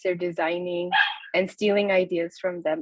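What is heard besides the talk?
dog barking in the background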